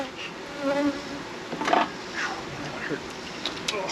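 Honeybees buzzing close around an open beehive during hive work, a steady insect drone with brief louder swells as individual bees pass near, over faint background noise.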